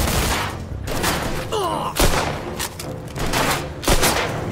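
Gunshots in the Mafia II: Definitive Edition video game, a loud, close volley of sharp repeated shots and thumps, with a voice shouting amid the firing.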